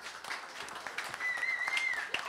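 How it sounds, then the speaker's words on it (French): A crowd at a Kids Voice Tour 2016 finale applauds a jury member, a faint, distant patter of clapping heard throughout with a brief whistle over it. "On l'applaudit également."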